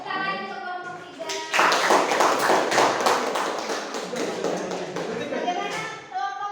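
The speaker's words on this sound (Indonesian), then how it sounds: "Tepuk tangan untuk kelompok 3." A small class of children claps for a group in an Indonesian-language lesson, a burst of quick, loose hand claps rising after a spoken line and fading out before a voice returns.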